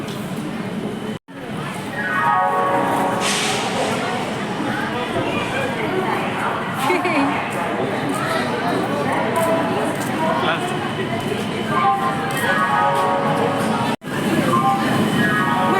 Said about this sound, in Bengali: আমাদের ট্রেন চলে এসেছে।